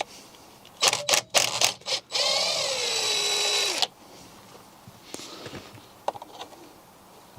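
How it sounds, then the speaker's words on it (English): Power tool spinning out the 16mm bolt that holds the steering wheel on a BMW E90 3 Series: several short tool bursts, then a sustained two-second whir, followed by light clicks and handling noises, close and loud. "Now we can remove the 16mm bolt that holds the steering wheel in place."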